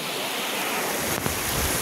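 A waterfall on a monsoon trek in the rain, a dense, continuous roar of rushing water with a faint wind rumble, heard briefly and steadily with no talk.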